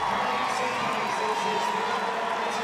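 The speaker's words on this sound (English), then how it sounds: "As Peacock takes the plaudits of this big crowd at London's Olympic Stadium" A big stadium crowd at London's Olympic Stadium cheers during the World Para Athletics Championships, a dense sustained roar of applause and whoops filling the space with no gaps.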